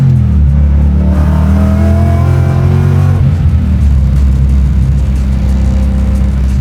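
A 785HP Mustang Fastback revs hard during burnouts, a loud, close, continuous engine roar with rising and falling pitch and a rumbling low end.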